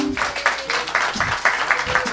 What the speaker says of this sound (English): Round of applause for our Unity Band